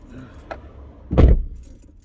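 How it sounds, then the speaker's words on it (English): A car key goes into the ignition, close up: a light metallic clink, then a louder jangle of keys on the ring that fades quickly. "Put my key in the ignition."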